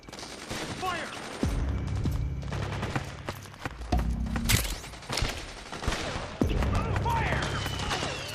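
Gunfire from Metal Gear Solid 4 crackles in dense bursts of automatic fire and scattered single shots, with deep booming impacts and shouted voices mixed in amid the chaotic battle.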